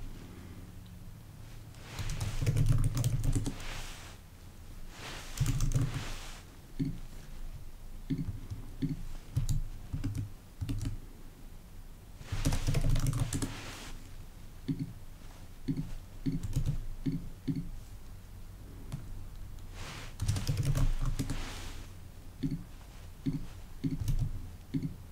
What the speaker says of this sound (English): This is where we type in our student details.